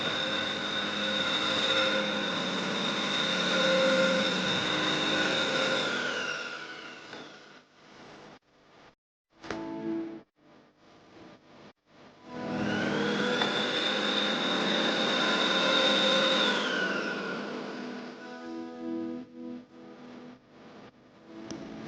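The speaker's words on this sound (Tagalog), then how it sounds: "So yun nga, rechargeable vacuum siya." Rechargeable cordless vacuum cleaner with a removable battery, running in a sitting room: a loud, steady whine for several seconds, a pause with clicks and knocks, then the motor runs again before fading into scattered handling noise.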